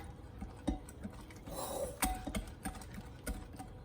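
A whisk works through a thick flour filling for an old-fashioned coconut pie, making quiet, close, irregularly rhythmic clicks and taps against the bowl with soft scraping in between.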